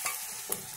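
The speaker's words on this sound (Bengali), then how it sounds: "এখন জিরা অ্যাড করা হচ্ছে।" Cumin seeds hit hot oil for a spinach and mashkalai dal, giving a brief, close, steady crackling sizzle with a sharp spit near the end and no voices.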